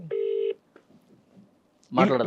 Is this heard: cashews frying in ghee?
no